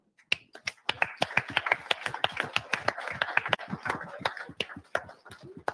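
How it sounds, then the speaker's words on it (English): A group of people clapping to welcome new associates at a live driver meeting, loud, brisk applause of many hands that thins toward the end, with no talk over it. "please stand up so we can give you a round of applause and welcome you to the Prime family"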